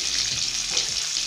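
Chopped onions fry in hot oil with cardamom and cinnamon, giving a brief, steady hiss and sizzle at close range with no voices.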